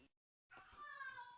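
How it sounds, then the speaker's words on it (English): A pet cat gives a short, clear meow after a brief silence, close to the microphone and fairly quiet, with a rising, slightly whiny tone. "That was a cat. That was one of my cats."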